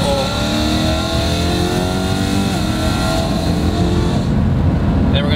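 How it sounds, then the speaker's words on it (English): A supercharged BMW E92 M3 with a VF supercharger, X-pipe exhaust and Pom Performance muffler, heard up close and loud as the engine drones, then blips and sweeps through a downshift, with a brief mechanical tail at the end. "Downshift for you guys."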